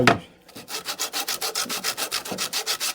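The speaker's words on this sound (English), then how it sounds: "So now, give her a little sand job here." Rhythmic hand sanding of a 2x4 wooden bird feeder post, about fifteen quick even back-and-forth rasping strokes, close and clear, with no talking.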